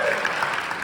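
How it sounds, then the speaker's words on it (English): Audience applause closes a speech at an International Day of Solidarity with Palestinian People event, a steady dense wash of clapping that fills the whole short moment at moderate loudness. "Let's give them a round of applause."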